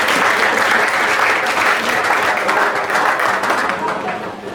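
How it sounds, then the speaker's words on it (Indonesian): A classroom of students applauds a student group, giving dense, steady clapping that fills the room at close range for several seconds before tapering slightly. "Kita beri aplaus dulu untuk kelompok ini."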